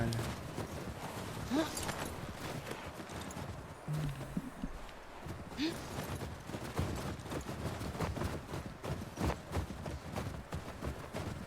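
Faint rhythmic horse hoofbeats from the video game The Last of Us Part II clop along steadily amid a busy, noisy background, with a short horse-like call partway through.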